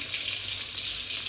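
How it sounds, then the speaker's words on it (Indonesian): An egg frying in a pan of hot oil while cooking nasi goreng, giving a steady, bright, close sizzle that continues unbroken with no voices. "Ini kita goreng sampai benar-benar matang dulu ya."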